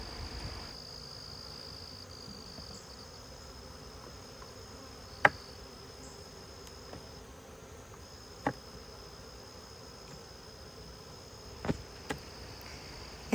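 Honey bees buzz in an open hive while the top deep brood box is inspected: a faint, steady insect hum with a few sharp clicks from handling the frames.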